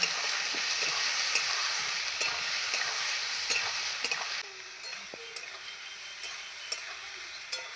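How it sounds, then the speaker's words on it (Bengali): Spices and fish frying in a pan, stirred as they cook: a steady sizzle with scattered scraping ticks of the spoon, which drops to a quieter bubbling hiss partway through. "আমি মশলাটা দিয়ে ভালো করে কষিয়ে নেব।"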